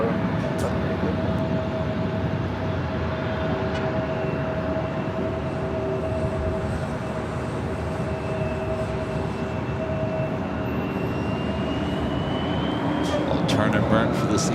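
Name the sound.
Embraer E175 jet taking off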